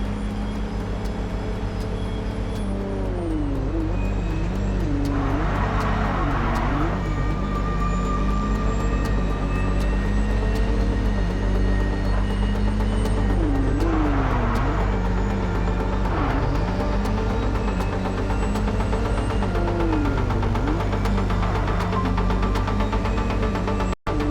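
A car drives in the video game MindsEye: a loud, steady engine drone runs throughout, with rising and falling revs and passing whooshes, and no talk.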